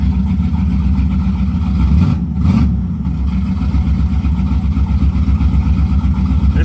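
A 1986 Camaro Z28 with a 350 small-block V8 runs close by with a loud, lumpy idle, a brief rev blip partway through, then settles back into its steady throb.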